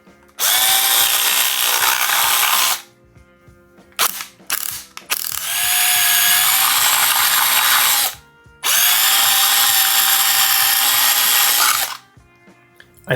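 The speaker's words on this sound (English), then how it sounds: "I'm gonna put in my 1/4 inch and start drilling my way up." A power drill with a 1/4-inch bit whines loudly, close by, drilling a hole in a Haslab Proton Pack ion arm in three long bursts separated by brief pauses and short stuttering triggers.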